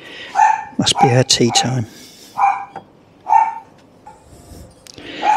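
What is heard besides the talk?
dog barking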